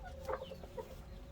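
A miniature hen, a feisty laced pullet, gives a few soft, quick clucks close by, quiet against a low background hum with no talk.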